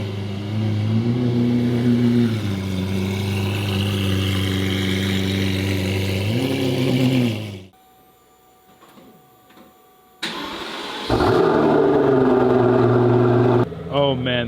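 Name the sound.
loud Mansory Lamborghini Aventador exhaust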